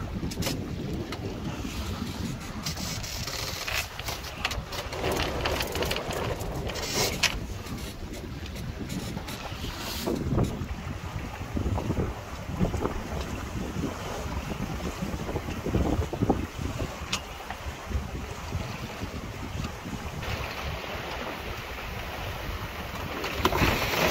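Gusty sea wind buffets the microphone on a headland at Rame Head, a loud, steady roar of rushing air with surging gusts and low rumbling thumps, waves faintly beneath, and no voices.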